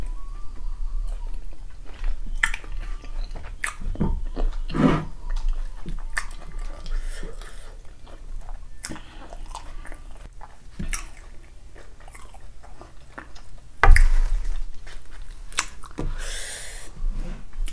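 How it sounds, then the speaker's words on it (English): Dry fish being chewed along with fufu and egusi-style soup during a mukbang meal, with soft, irregular close-up mouth sounds of biting and chewing, a few sharper crunches and clicks, and no talking. "That was one chewy dry fish."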